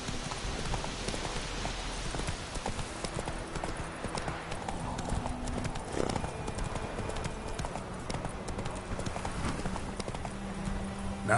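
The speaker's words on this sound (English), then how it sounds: "Whoa there, Roach" Hooves of a horse in The Witcher 3 video game clip-clop at a steady galloping rhythm throughout, fairly loud, with a brief voice at one point.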